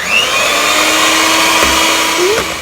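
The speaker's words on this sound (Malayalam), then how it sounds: "ഇനി നന്നായിട്ട് മിക്സ് ചെയ്യാം." A mixer blends biscuit pudding mixture with cocoa powder, giving a loud, steady motorized whir up close. It runs continuously with slight shifts in pitch.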